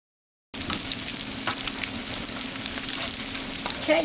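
Fish fillets with a crust frying in a pan, a steady dense sizzle that starts abruptly after a brief silence and stays loud and even with faint crackles, no voices.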